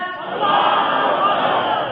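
A large crowd at a religious gathering shouts a slogan back in unison after the nara-e-risalat call, a loud, steady massed roar of many voices that holds for the whole stretch.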